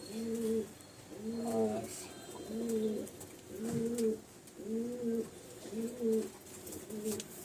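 Female pigeons coo in a steady series of about seven soft, throaty calls, close by, with light background noise.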